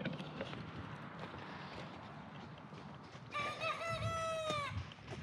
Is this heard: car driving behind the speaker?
no